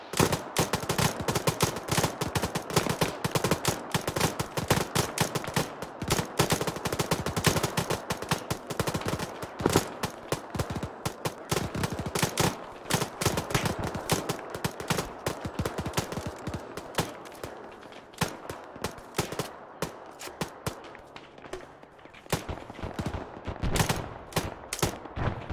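Sustained gunfire in a military shooter game, rapid automatic bursts and scattered single shots crackling almost nonstop, close and loud, thinning slightly toward the end.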